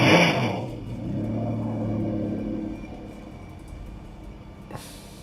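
Car on a surveillance camera outside the Idaho house, its engine rumbling loud at first as it pulls away and then fading into the distance, with a short sharp noise near the end.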